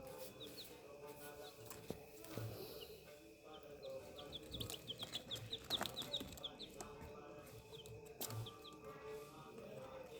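Young chicks gathered around a water dish drinking, with soft clucks and repeated high peeps scattered across the scene, quiet and close, with brief wing flutters and faint background noise.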